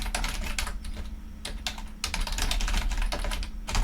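Steady, fast typing on a computer keyboard while entering C# code for a SQL update exercise, with dense clacking keystrokes that run continuously with brief pauses, close and alone.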